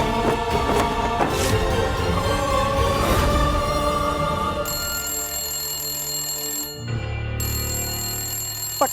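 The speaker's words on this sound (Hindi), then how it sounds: "देख तो कौन फोन बजा रहा है अभी।" A telephone rings indoors with a bright, repeating electronic ringtone, at first mixed with other loud sounds and then ringing more clearly on its own near the end.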